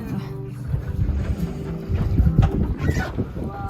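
A halibut fishing boat's engine rumbles on the water off Alaska's Kenai Peninsula, wind buffeting the microphone, steady and close, with faint talk underneath.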